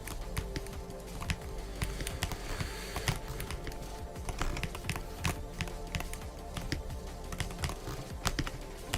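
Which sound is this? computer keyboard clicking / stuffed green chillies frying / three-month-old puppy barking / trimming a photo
computer keyboard clicking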